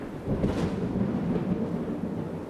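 Thunder from a storm over Delaware rumbles low and loud, a sustained rolling roar without a sharp crack.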